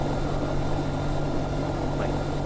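Small propeller plane flying in a VR video game: a steady, loud engine and propeller drone with a constant low hum, continuous and unbroken, no voices.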